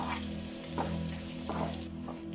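Coconut pieces, ginger and green chilies fry in a pan for a Kadamutta roast, giving a steady, close sizzle with a few soft stirring scrapes and no voices.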